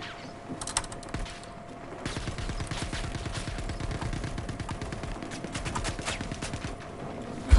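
Rapid automatic gunfire crackles through a Star Citizen firefight, dense bursts of shots overlapping almost continuously after a quieter start, with mechanical clatter and a sharp burst at the very end.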